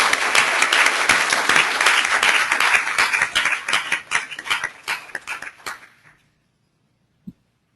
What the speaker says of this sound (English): I'd like to give a hearty round of applause